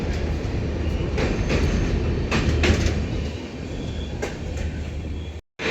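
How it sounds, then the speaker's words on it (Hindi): A Namo Bharat train passes alongside, heard as a loud, continuous rumble and roar of rail traffic from start to finish, close by and steady, briefly cutting out near the end. "ये देखिए सामने से नमो भारत ट्रेन निकल रही है"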